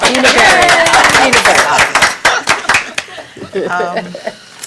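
A room at a Fanwood council meeting gives a short round of hand clapping mixed with talk and a chuckle, loud for about two seconds before thinning out as speaking continues.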